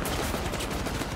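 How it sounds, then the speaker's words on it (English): Rapid video game gunfire crackles in dense bursts throughout, loud and continuous with a steady rattling rhythm like automatic weapons. "What are you shooting at, Schizo?"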